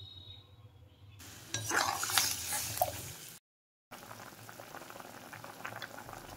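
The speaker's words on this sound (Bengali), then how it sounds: "ঝোল খুব সুন্দরভাবে ফুটে উঠেছে" Fish curry broth with drumsticks and potatoes bubbles at a steady boil in a pot, a dense close hiss and burble that swells midway, cuts out briefly, then resumes at a lower, even simmer.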